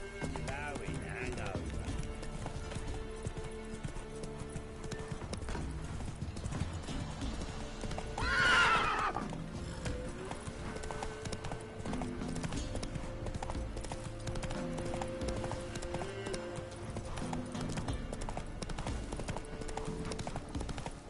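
Roach the horse gallops with steady rhythmic hoofbeats and a loud whinny midway in The Witcher 3: Wild Hunt, over game music and ambience.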